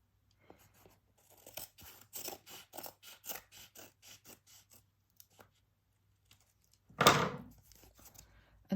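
Scissors cut paper and loose threads for a paper-crafting project, a run of quick, close snips in a steady rhythm, followed after a pause by one louder, rasping tear.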